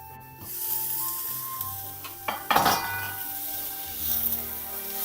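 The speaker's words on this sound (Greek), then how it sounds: "Κλείνουμε ξανά το καπάκι." A metal pot lid is set back down on a pot where pork knuckle sizzles, giving a single sharp clink against a steady frying hiss, with some stirring and utensil clatter around it.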